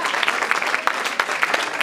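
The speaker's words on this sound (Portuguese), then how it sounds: "Você pode aplaudir ao Senhor" Continuous applause from a church congregation at a Holy Communion Sunday service, dense overlapping claps with a few sharper individual hits standing out, moderately loud throughout.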